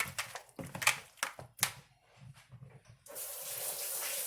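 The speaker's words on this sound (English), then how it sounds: "Quick rinse." Quick rinse of chicken wings under a running kitchen tap, with brief handling clatter first and then a steady close gush of water to the end.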